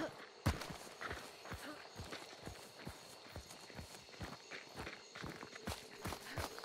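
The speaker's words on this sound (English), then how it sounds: "I hear his footsteps." Footsteps of an enemy player in the video game Hunt: Showdown thud in a steady walking rhythm, fairly faint and close, repeating evenly over a low ambient background.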